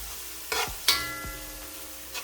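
Pak choi sautéing with hot pepper and garlic in a pan, a steady close sizzle with a few sharp stirring scrapes and clinks spaced out, no voices.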